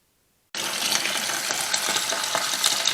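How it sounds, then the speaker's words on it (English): Cold water from a kitchen sink tap runs over fresh basil being washed, starting abruptly after a moment of silence and then rushing and splashing steadily and close. "The next step is washing the basil in the sink in cold water"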